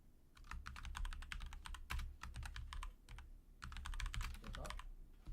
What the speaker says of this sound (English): I hear my keyboard clicking.